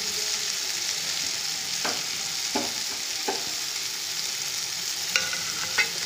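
Spices and hand-ground ginger paste are stir-fried in a pan, giving a steady broadband hiss. A few short scraping stirs of the spoon break through, with no talking.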